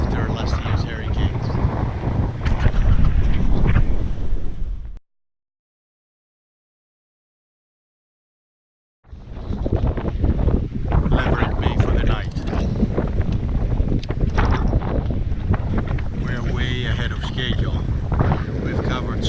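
Heavy wind roars and buffets across a sailboat at anchor in the British Virgin Islands, a loud continuous rush broken by a sudden few seconds of silence, with speech mixed in.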